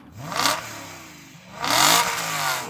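V8 engine of a BMW M3 E92 revs hard twice, two sharp rising blips close by with a throaty roar settling between them, no voices.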